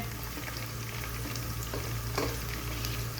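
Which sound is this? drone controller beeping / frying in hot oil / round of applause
frying in hot oil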